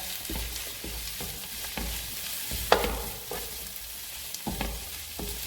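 Egg and mixed vegetables stir-fried together in a pan for chicken fried rice, a steady sizzle with rhythmic scraping strokes of a spatula and a sharp clank midway.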